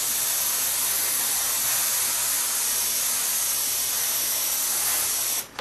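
An airbrush sprays blue paint around a skull stencil on a T-shirt, a steady close hiss that holds unbroken for several seconds before cutting off at the very end.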